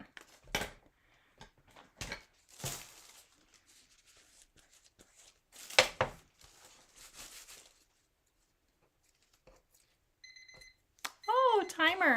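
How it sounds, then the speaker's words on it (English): A kitchen timer alarm beeps in quick repeated bursts near the end, preceded by scattered clatter and soft handling noises during a decoupage craft session. "Oh, timer, Connie"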